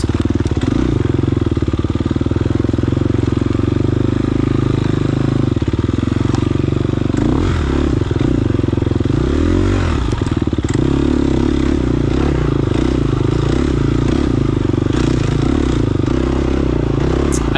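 A dirt bike engine drones loud and close while riding downhill through tight woods in a muddy sprint enduro, with throttle swells, clattering and scraping from the terrain.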